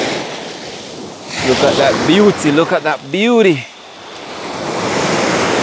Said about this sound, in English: Go and take in some of the waves.